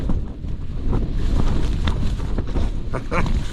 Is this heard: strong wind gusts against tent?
yes